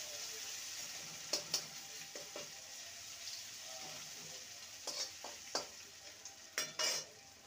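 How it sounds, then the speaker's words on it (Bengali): Ginger garlic paste fries in a pan, a soft steady sizzle under intermittent scraping strokes of a spoon stirring, with sharper clinks of utensil against the pan near the end. "আদা রসুনটাকে ভালো করে নেড়ে নেব, যাতে করে আদার কাঁচা গন্ধটা চলে যায়।"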